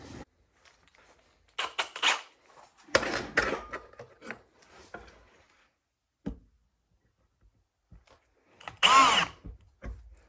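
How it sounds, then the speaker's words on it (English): Several short bursts of power drilling into an aluminum bus bar for custom battery cables, separated by pauses, close by and fairly loud, with scattered clicks and handling noises between. "so we'll drill that out, round that out"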